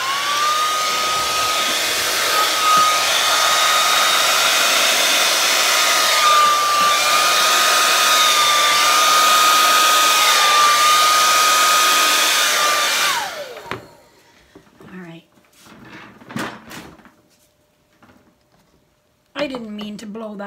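A hair dryer blows close and loud across an acrylic Dutch pour painting, its steady whine dipping in pitch as it moves, then cutting off to quiet handling and brief talk.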